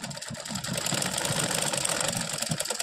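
A sewing machine runs continuously while stitching a folded hook strip for a garment, a close, steady mechanical whir with a fast rhythmic needle chatter, picking up slightly after a brief softer start.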